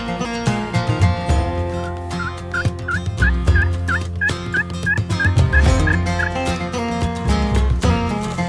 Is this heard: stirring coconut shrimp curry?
no